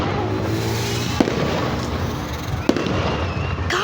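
Distant fireworks at a Halloween celebration, heard as a low continuous rumbling with two sharp faint pops standing out from the background.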